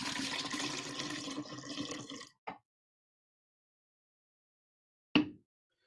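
Lemon juice punch sloshes and swirls in its container for about two seconds, followed by silence and two small, sharp clinks, close and fairly quiet.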